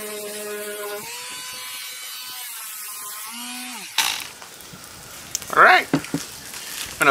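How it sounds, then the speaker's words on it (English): An angle grinder whines at a steady pitch that drops as it winds down. Then it smooths high spots on scrap plywood with harsh bursts of abrasive grinding, close and loud. "Hit that with my angle grinder."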